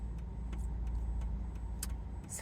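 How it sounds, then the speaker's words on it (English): Busy road traffic, cars passing in a steady, continuous rumble that stays close and fairly loud throughout, with no voices. "So many cars, so busy today."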